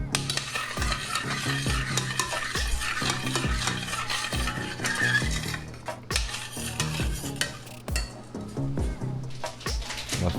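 Spoon stirring dried oregano, basil, salt and pepper together in a bowl for pizza, with repeated scraping and clinking taps in an uneven rhythm, close and moderately loud.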